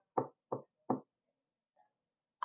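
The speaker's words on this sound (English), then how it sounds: "She knocked on the biggest shiny door she could find" Three firm knocks on a big shiny door, evenly spaced and close, followed by a faint brief sound and then silence.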